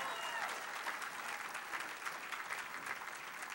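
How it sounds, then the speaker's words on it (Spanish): Soft, steady applause from a church congregation, a continuous wash of many hands clapping at moderate distance with no clear individual claps and no speech over it. "Dale un fuerte aplauso al Señor."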